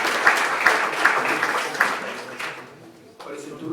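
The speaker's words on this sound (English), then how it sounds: "A round of applause, please." Audience at an AgTech startup demo day breaking into applause, a burst of dense clapping with a few sharp claps that thins out and fades near the end, with a voice starting up as it dies away.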